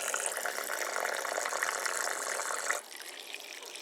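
Water from a tap pouring over freshly cooked, still-warm food to rinse and cool it; a steady close splashing gush that cuts off sharply, leaving fainter trickling afterward.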